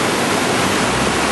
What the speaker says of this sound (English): Look at that water rushing, huh?